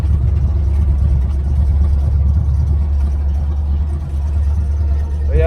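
A 1981 Chevrolet Camaro Z28 engine runs on a test after the front end is reassembled, idling with a loud, steady, close rumble that holds for several seconds.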